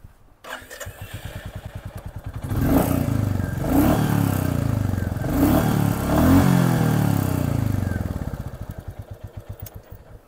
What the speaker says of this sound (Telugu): ఎగ్జాస్ట్ నోట్ అయితే వినండి.